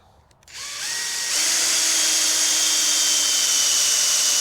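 Power drill driving a sturdy screw into a pre-drilled wooden chicken coop door on an allotment, a whine starting after a short pause, then rising in pitch and holding steady and loud to the end.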